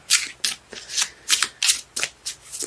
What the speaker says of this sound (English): Cards let me know when they're done shuffling.